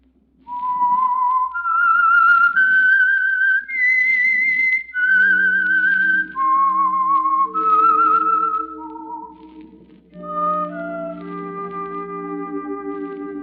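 The whistled theme of a 1946 radio drama: a solo melody, clear and close, rising and falling through a series of held notes before a lower instrumental chord enters beneath it.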